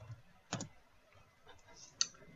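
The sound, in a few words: typing and mouse clicking on a computer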